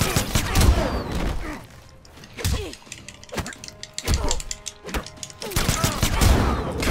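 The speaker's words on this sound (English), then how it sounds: "That's what sucks when they have guns, is they just stand way over there and fucking shoot ya." Enemies fire guns from a distance in Mortal Kombat X on Xbox One during Sub-Zero's story mode: bursts of sharp shots crack out in clusters, separated by short lulls, amid other game noise.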